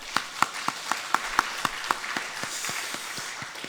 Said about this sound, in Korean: 하나님께 영광의 박수 올립시다